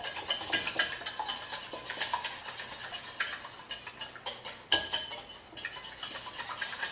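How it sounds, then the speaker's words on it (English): Eggs beaten with a fork in a bowl, a quick irregular series of light clicking taps and scrapes against the dish, close up and fairly soft, with no voices. "let's start beating the eggs"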